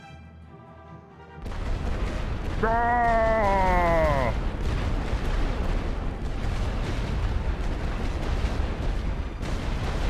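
Artillery barrage and explosions in The Great War: Western Front strategy game, a loud continuous rumble of blasts with a brief rising siren-like tone early on and a short exclaimed voice.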